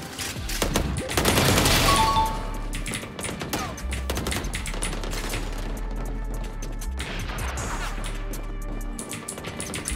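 Gunfire in the shooter game Valorant: a dense burst of rapid shots early on, followed by scattered cracks and impacts over a steady low game rumble.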